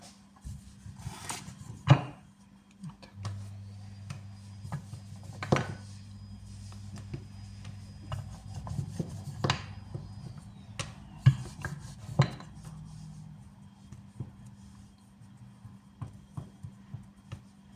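Small pieces of dumpling dough for varenyky rolled out on a floured surface: soft rubbing and rolling sounds with scattered light knocks and taps, close and quiet, over a low steady hum.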